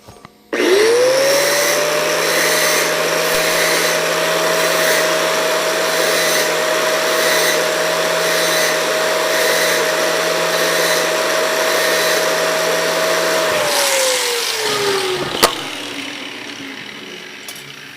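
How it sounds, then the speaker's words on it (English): Bench grinder spinning up to sharpen a bent tungsten welding electrode, a loud steady high whine holding for about thirteen seconds before winding down, with grinding hiss over it and no speech. "And then I can sharpen this tungsten right here because that one's all freaking bent out of shape."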